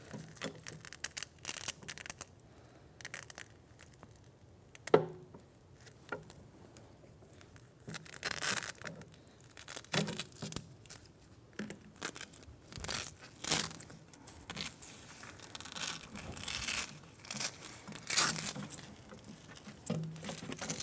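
Strings being cut and the old pedal cover pulled off a combo chair: irregular crinkling, tearing and rustling of fabric, with sharp snips and scrapes scattered throughout, close and fairly quiet.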